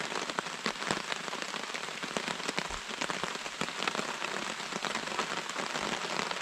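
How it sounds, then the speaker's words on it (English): Steady rain falling and pattering on a surface, with scattered sharper drops, continuous throughout and moderately close. "It's been raining for a couple hours now."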